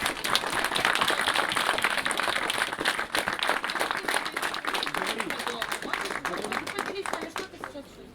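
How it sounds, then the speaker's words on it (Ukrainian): Audience clapping in a dense, sustained burst of applause that swells and then gradually thins out, with voices from the crowd mixed in. "Аплодируем еще раз."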